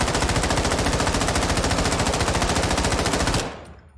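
A gun in Warzone 2.0 fires full-auto at a firing range, a loud rapid unbroken burst of shots that cuts off near the end and rings out briefly.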